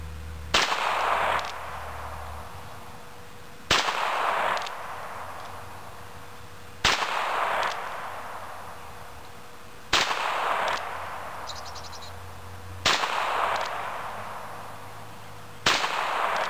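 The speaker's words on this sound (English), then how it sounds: "we'll pop a few rounds at this last little circle up here that hadn't been hit" A Bearcat gun fires at a target: six single sharp shots spaced about three seconds apart, each loud and close with a short decaying tail, no talking between them.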